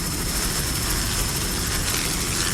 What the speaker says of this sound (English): Brady is the helicopter pilot there from Biscayne Helicopters, piloting the Drambuie on Ice helicopter today